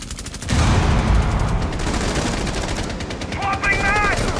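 Sustained automatic gunfire in Rainbow Six Siege ranked play, loud rapid bursts rattling almost without pause after a brief quieter start, with faint tonal game effects near the end.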